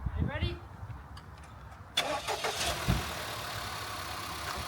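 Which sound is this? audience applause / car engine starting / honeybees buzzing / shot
car engine starting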